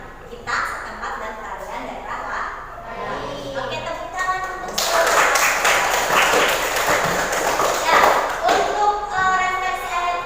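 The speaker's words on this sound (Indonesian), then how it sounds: "Oke, tepuk tangan untuk semua." Children in a classroom during a regional dance lesson clap together, a lively, loud burst of many hands that swells partway through, mixed with children's voices and an adult talking before and during it.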